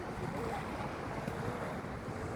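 Sea waves wash steadily onto a very clean beach, a continuous broadband surf roar with gusty wind noise across the microphone and no voices.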